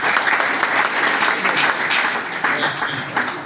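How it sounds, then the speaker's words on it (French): A crowd at a civil society meeting in Congo applauds, a dense, continuous patter of many hands with a few voices faintly mixed in. "Est-ce qu'on peut les applaudir?"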